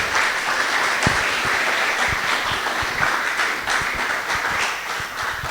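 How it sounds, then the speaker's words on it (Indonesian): An audience at a safety seminar of PT Freeport Indonesia and Universitas Cenderawasih's engineering faculty applauds the third presentation group with loud, steady, dense clapping that lasts throughout. "Kita berikan aplaus untuk kelompok yang ketiga."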